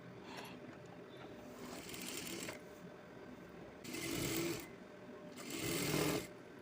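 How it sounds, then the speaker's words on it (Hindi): A sewing machine stitching a blouse drawstring runs in three short whirring bursts separated by brief pauses, close by, with no one talking. "बस इस तरह से धागा को अंदर की ओर ढकेल करके सिलाई लगा दीजिए।"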